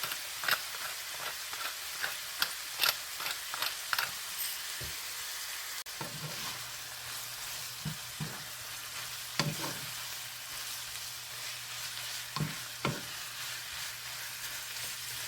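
Ground meat for Filipino picadillo frying in a hot pan, with a steady sizzle broken by sharp scraping and tapping as a spatula stirs it; close and clear, with no voices.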